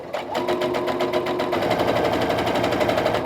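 Sewing machine running steadily as it stitches quilt half square triangles, a continuous close, even mechanical whir with a rapid regular needle rhythm throughout, no talking.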